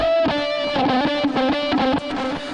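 An electric guitar run through strong feedback delay sounds very distorted and fuzzy, with rapid repeating stuttered notes piling up in a loud, dense wash for a couple of seconds.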